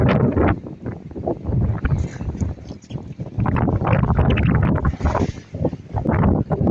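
Strong Amihan monsoon wind at sea buffets the microphone in a steady roaring rush, loud and close throughout, with gusty swells and no clear voices.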